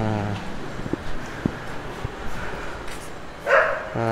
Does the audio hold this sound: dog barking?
yes